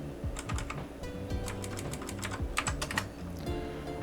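Keys clatter on an old computer keyboard attached to a 486 DX4 PC, with quick irregular clicks and taps that come close and clear with no talking.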